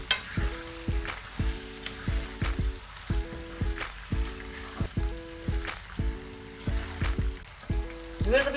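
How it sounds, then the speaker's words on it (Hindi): White sauce being stirred into chicken pasta in a pan, with a soft sizzle and repeated scraping strokes in a steady rhythm, close and moderately quiet, with faint background music and no talking. "अभी इसको अच्छे से मिक्स करते हैं।"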